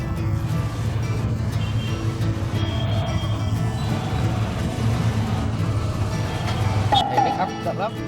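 Busy street traffic in India: a continuous drone of engines and vehicles passing, with a few horn toots cutting through, the loudest near the end.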